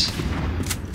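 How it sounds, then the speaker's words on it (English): A single sharp sniper rifle shot rings out in the online shooter Black Squad, a brief booming report with a short tail. "I like this sniper rifle."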